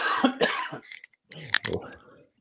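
Coughing and throat clearing from someone talking about tennis training, a few harsh bursts close to the microphone with brief vocal sounds between them.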